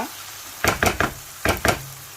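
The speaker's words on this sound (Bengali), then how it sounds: "এই টমেটো পেঁয়াজে চিংড়িগুলোকে আমি ভালো করে কষিয়ে নিব" Shrimp sizzle in a pan of tomato and onion while a utensil stirs them in short scraping bursts, five quick strokes in two groups over a steady low frying hiss.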